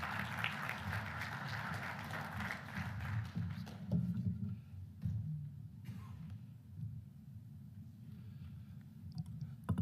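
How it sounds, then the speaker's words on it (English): An audience applauds to welcome speaker Rob Bradley at a climate conference panel, sustained clapping at moderate distance that gradually thins out, with scattered taps and thuds near the end. "So please, another round of applause"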